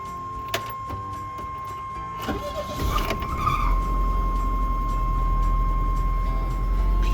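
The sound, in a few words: LeSharo motorhome engine cranking and starting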